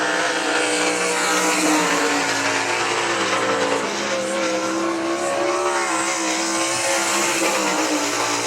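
Sprint race car circling the I-96 Speedway track, its engine roaring loud and steady throughout with continuous high revving drone and no pauses.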